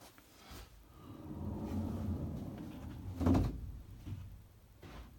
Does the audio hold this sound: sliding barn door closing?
yes